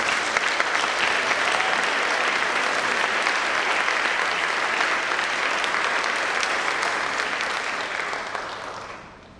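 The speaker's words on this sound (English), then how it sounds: "A round of applause for Mary Ryan." Loud, sustained applause fills a hall at a Board of Education awards ceremony as an award winner is honored, a dense clapping crowd that holds steady before fading out at the end.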